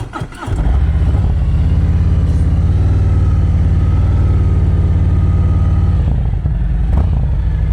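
A motorcycle is ridden at very slow speed downhill during a slow-speed riding practice session. Its engine makes a loud, close, steady drone that holds evenly from start to finish, after a brief clunk at the beginning.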